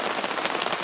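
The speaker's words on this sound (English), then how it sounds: "it's now 6:30 and it's still raining." Steady spring rain falls in the bush, a dense, even patter of drops on surfaces with no other sounds.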